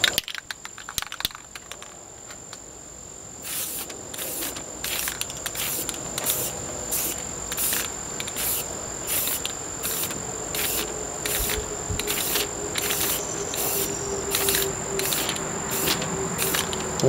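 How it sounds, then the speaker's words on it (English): A handheld sprayer used on a vertical surface fires in short, regular bursts, switching on and off about twice a second with a steady hiss in each burst and brief gaps between. Nobody speaks. "I'm not that good, so why I'm spraying on and off may not be the best way to do it."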